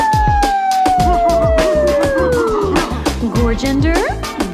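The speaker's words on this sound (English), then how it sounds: "My dog says, ah-woo!" A dog howls in a long falling wail over a loud, steady musical backing, close and prominent, with short yips near the end.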